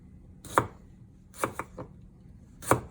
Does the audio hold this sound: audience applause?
no